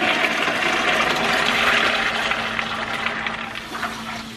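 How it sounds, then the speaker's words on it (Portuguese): Soaking water drained off beans in a home kitchen pours out in a steady, fairly loud splashing stream that gradually tapers, with a faint background hum and no talk. "Essa água aqui tem que ser descartada."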